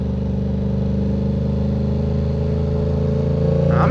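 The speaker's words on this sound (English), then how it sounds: "this exhaust is popping and everything" A Yamaha R7 sport motorcycle with a loud aftermarket exhaust runs loud and steady with a throaty rumble, holding a constant idle-like drone throughout.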